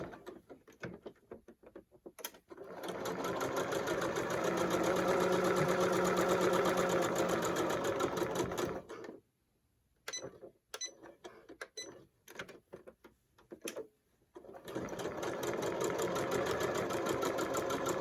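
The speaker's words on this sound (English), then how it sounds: "when you get to the end, don't forget to leave your opening and back stitch there" A sewing machine stitches a fabric face mask in long continuous runs, steady and fairly loud, broken by a pause and a few short bursts before stitching resumes.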